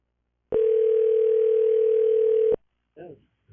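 A telephone dial tone during a call, a single loud steady pure tone lasting about two seconds that cuts off abruptly, followed by a brief murmur of a voice.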